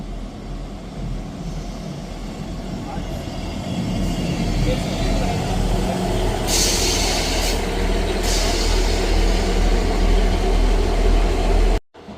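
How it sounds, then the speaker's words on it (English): A ScotRail class 158 diesel train, unit 158711, rolls into a station with a steady low rumble, and a couple of brief hissing bursts of brake air sound near the end before it cuts off. "Arriving in now is the 1245 Scotrail service from Edinburgh Waverley to Leven. 158711."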